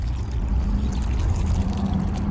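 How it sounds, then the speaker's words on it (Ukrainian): Water pours and splashes steadily onto a freshly transplanted hydrangea in a garden, a continuous close rushing gurgle lasting the whole moment. "Зараз дуже гарно пролити водою."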